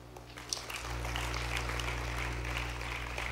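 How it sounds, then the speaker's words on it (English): Audience at an MTN Women In Business evening event applauding the MTN Uganda CEO; clapping swells after a brief start and holds steady over a low hum from the venue's sound system. "A round of applause to the MTN Uganda CEO, Mazen."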